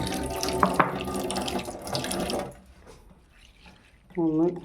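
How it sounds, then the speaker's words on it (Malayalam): Running tap water pours over flattened rice (aval) being washed, a steady close splash for about half the time before tapering off, with a voice briefly speaking at the end. "ഈ അവിലിനെ നമുക്ക് കുറച്ച് വെള്ളം ഒഴിച്ചിട്ട് ഒന്ന് കഴുകിയിട്ട് ഒന്ന് വയ്ക്കാം."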